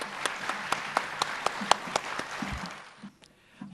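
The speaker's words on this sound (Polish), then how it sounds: "Wielki brawa do was samych." Audience applause at a carnival-themed Silesian song concert: a loud burst of individual hand claps that thins out after about two and a half seconds and fades into quiet room sound.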